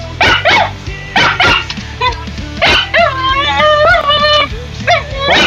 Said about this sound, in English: The dog is going bonkers.